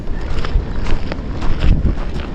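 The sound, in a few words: wind blowing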